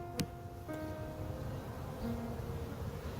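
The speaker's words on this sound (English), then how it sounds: "there's a ton of bees in here still." Honey bees buzzing in large numbers inside a hive after a swarm, a steady low drone with a few sharp clicks, close and unbroken, with no talk.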